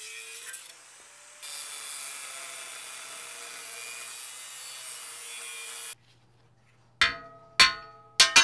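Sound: grinding during rope tow rebuild

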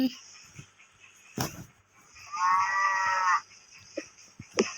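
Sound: cattle mooing in a video game

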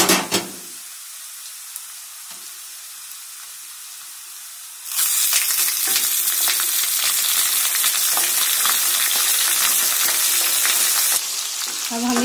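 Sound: mutton frying in a pan with onions and green chillies

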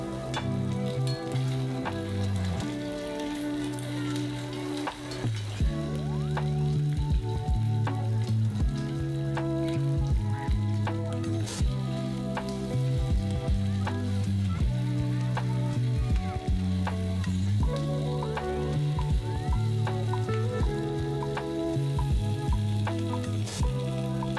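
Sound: beef frying in vegetable oil in pan

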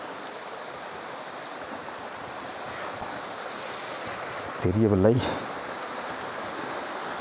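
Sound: small forest stream, loud flowing water

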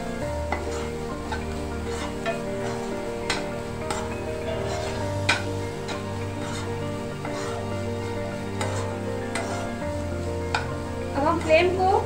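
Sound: stirring vegetable sandwich stuffing with spices in a pan

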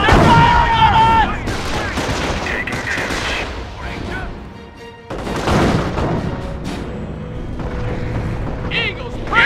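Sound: gunfire and artillery in Company of Heroes video game

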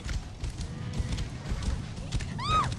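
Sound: summoned horse galloping, video game

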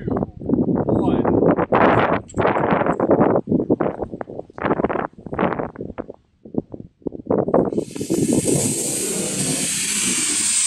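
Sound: model rocket launching

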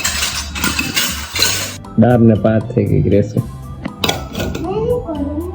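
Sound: wiping and handling metal utensils and dishes

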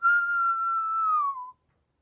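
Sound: whistling

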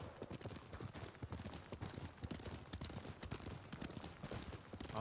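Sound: horse hooves galloping, from a video game

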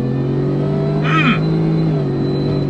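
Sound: 2023 Shelby F-150 Super Snake truck accelerating

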